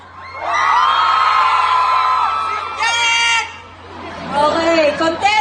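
A crowd of fans at a meet-and-greet show in Capiz shouts and cheers loudly to judge a contestant, sustained group yelling that breaks off briefly, then rises again in scattered whoops.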